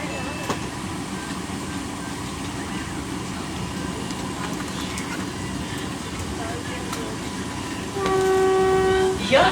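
A train runs toward Talcher Road station, a steady rolling rumble with faint clatter, then a loud sustained horn near the end. Announcements can be heard over the train.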